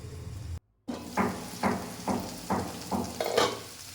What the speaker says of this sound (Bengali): এবার আলুটাকে ভালোভাবে মানে কষিয়ে নেব